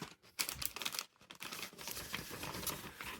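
Large paper instruction sheet from a Playtive Clippys Lucky Luke building set being unfolded and crinkled, with bursts of loud crumpling and rustling broken by brief pauses.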